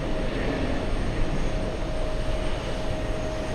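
A steady, loud jet engine roar from an Airbus A350 near JFK airport, a continuous broadband rumble with a faint high whine held evenly throughout, no voices.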